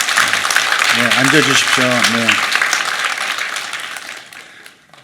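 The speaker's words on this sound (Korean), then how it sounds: "우리 격려의 박수 한번 다시 한번" Congregation applauding in a church during a Sunday service, a steady broadband wash of clapping that fades out toward the end while a voice speaks over it.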